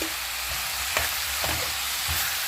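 Sliced capsicum stir-frying in a pan for restaurant-style American chicken chop suey, a steady close sizzle broken by a few soft scraping stirs, with no talking.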